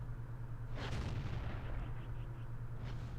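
Shells striking tanks in the video game World of Tanks, heard as a loud, dense booming burst of artillery-like impacts over a low engine rumble, followed by a second shorter hit near the end.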